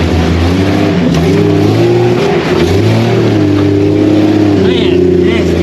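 Jeep Comanche pickup engine revving loudly and steadily as it crawls a rough, nasty off-road trail, with a continuous close drone that rises and falls; voices talk over it.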